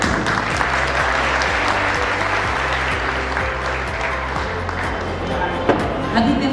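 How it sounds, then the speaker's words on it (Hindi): Audience applause fills a felicitation ceremony hall for Savani Heritage Conservation, a dense steady wash of many hands clapping for the whole stretch. "तालियां हम बजाएंगे आप।"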